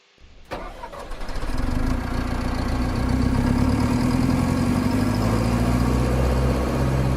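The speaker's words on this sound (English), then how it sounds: "let's just listen ourselves first to the old generation of machines" An older-generation machine starts up with a low, rising engine roar, then settles into a loud, steady, droning idle, heard alone without talk.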